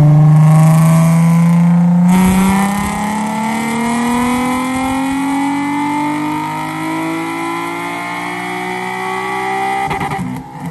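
An Infiniti G37 on E85 fuel revs hard on a dyno, its loud engine note climbing steadily in pitch over several seconds, dipping briefly, then rising again before cutting off near the end.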